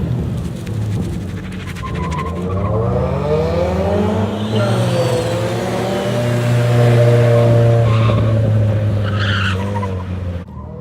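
Drift cars, including a 240, sliding through a sustained skid at a car meet, with engines revving and tires squealing loudly in a continuous wailing sweep that rises and holds for about ten seconds, close and dominant, no voices.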